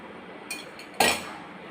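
A spoon mixes milk powder dough with room-temperature milk in a bowl, giving two sharp clinks against the bowl, a light tap followed by a louder, ringing knock, with no talking.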